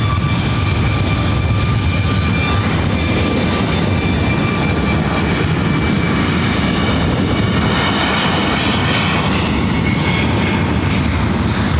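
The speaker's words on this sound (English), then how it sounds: "Flight 621 heading back to Rome, A350 900." An ITA Airways Airbus A350-900 jet departs LAX bound for Rome, a loud, steady engine roar filling the scene with a sustained broadband rumble and faint tonal whine, no voices.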